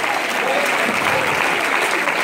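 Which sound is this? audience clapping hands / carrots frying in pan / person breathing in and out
audience clapping hands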